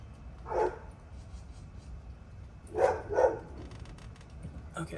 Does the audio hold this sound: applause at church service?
no